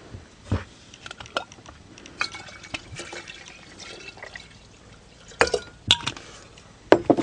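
Spring water is poured into a container in short trickles and splashes, with a few sharp glassy clinks and taps, loudest near the end; the sounds are close with a faint background hiss.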